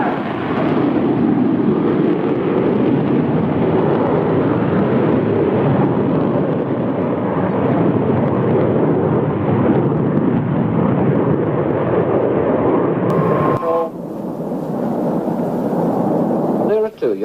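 An aircraft on a high-speed taxi run that turns into its first flight gives a loud, sustained, broad engine roar that holds steady before cutting off abruptly near the end.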